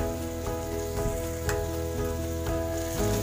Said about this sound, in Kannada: ನನ್ನ ಆನಿಯನ್ ಕೂಡ ನೀಟಾಗಿ ಫ್ರೈ ಆಗಿದೆ